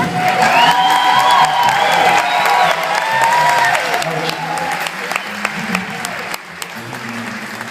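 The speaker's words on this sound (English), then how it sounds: "if I could get a small round of applause for being old" A concert audience at a band performance breaks into loud applause with whoops and cheers, voices ringing out early, then the clapping thins and fades toward the end.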